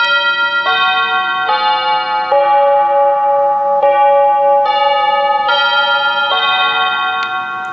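A wireless door chime, model 837A, rings out a clear, loud electronic melody of sustained bell-like tones, several notes in sequence ringing alone without speech.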